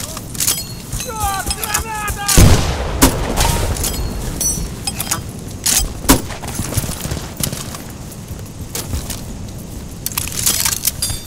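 Rifle and machine-gun fire crackles through a Battlefield: Bad Company 2 team match, with scattered sharp shots and bursts at varying distances amid game noise, as players talk over it.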